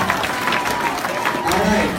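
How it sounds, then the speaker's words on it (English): Middle school students applauding at a school assembly, clapping mixed with crowd noise and voices over a short burst. "All right, huge round of applause, everybody."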